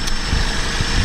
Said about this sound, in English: Engine is idling.